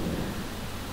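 Steady rain falls outdoors with a low, continuous rumble of thunder beneath it, a dense and even wash of sound throughout.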